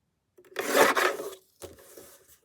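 Paper being trimmed for a journal, a close dry rasping cut lasting about a second, then a shorter, fainter scrape after a brief pause, with no talking.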